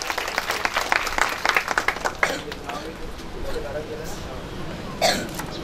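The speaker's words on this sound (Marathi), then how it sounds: "पुन्हा एकदा टाळ्यांचा कडकडाट" A crowd applauds at a certificate presentation ceremony, a burst of dense clapping that thins out and fades, with a voice speaking over the end.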